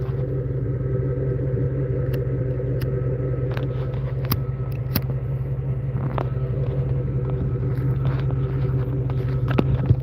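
An old re-geared off-road vehicle with a huge bumper runs nearby, giving a steady, close engine rumble and hum that holds evenly throughout with no talking.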